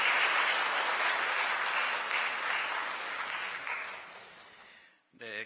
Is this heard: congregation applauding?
yes